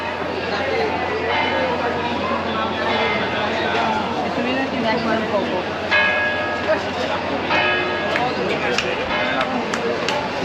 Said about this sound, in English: And the bells are chiming at the church.